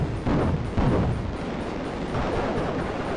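Explosions in the vertical shooter Raptor: Call of the Shadows, a dense continuous rumble of blasts with a few stronger bursts, loud and close, with no talking.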